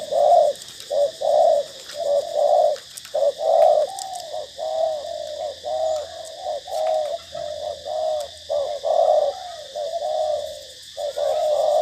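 A spotted dove gives repeated soft, throaty coos in quick rhythmic phrases, close and clear, continuing steadily with only short pauses between bursts.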